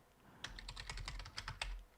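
Someone types a web address on a computer keyboard in a quick, uneven run of close, crisp key clicks.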